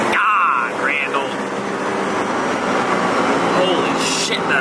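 Heavy 4.1-swapped R35 Nissan GTR making over 1500 hp accelerating hard, a loud sustained roar with whistling turbo and wind noise heard from inside the car.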